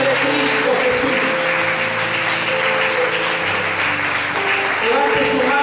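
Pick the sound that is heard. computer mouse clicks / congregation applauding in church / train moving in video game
congregation applauding in church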